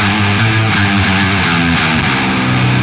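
Left, right and center distorted electric guitar tracks play a riff together, loud and dense with a steady driving rhythm.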